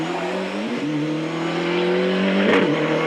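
A Ford Escort rally car races along a stage of the 1998 Cavan Stages Rally, its engine droning steadily with rising revs and a brief sharp surge near the end, heard alone without talk.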